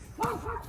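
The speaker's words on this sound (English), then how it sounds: "Oh, that's a dog right here." Dog giving one short bark or yip nearby, a brief sharp call over faint background noise.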